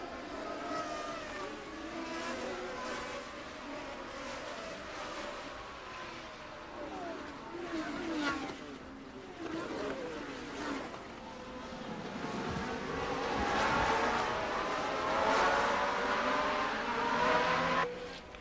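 1981 Formula One race cars roar past in a continuous engine drone that swells louder toward the end, with a voice commentating over it.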